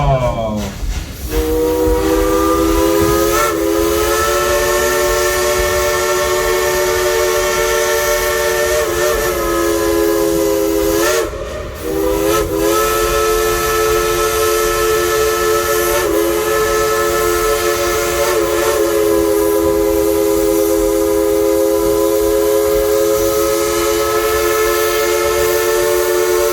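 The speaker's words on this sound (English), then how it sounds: "Blow the whistle." A long, loud steam whistle from Dollywood's Engine 192 Klondike Katy locomotive blows with a strong harmonic tone, sustained for many seconds, cutting out briefly once before sounding again.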